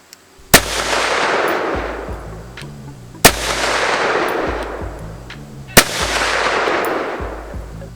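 Three loud, sharp shots from a Kel-Tec PMR30 pistol, fired a couple of seconds apart with a long rumbling echo trailing each one.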